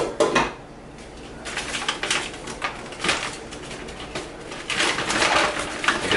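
A lid set onto a cooking pot on the stove while making a fajita style chicken bowl, with several sharp metallic clanks and rattles among softer kitchen clatter.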